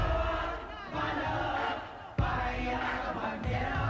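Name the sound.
crowd singing along in music video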